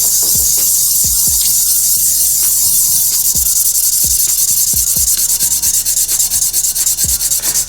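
A dull metal clipper blade being sharpened on a sharpening block, with continuous loud, close gritty rubbing strokes and regular scraping pulses and no voices.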